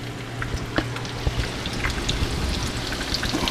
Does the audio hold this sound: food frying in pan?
yes